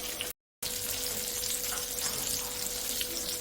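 Mackerel (bangda) fish frying in a pan over low heat, giving a steady close sizzle and hiss with a brief drop-out near the start, no talking.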